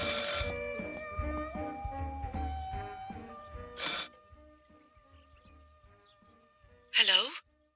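Old telephone rings inside the video game Martha Is Dead, two short loud bursts of ringing heard clearly over a quiet, droning game background with soft tones.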